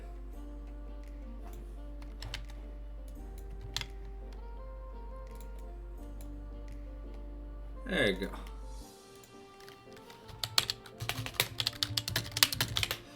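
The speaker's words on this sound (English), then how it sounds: "Sorry for the typing, clickety clackety" Rapid clicking of computer-keyboard typing during a casual League of Legends esports match stream, a busy burst of keystrokes near the end after steady background hum and a short spoken phrase.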